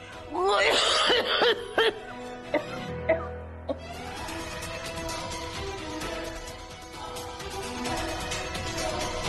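A person coughs in a short run of close, harsh bursts, followed by low background sound and voices in a Punjabi television drama scene.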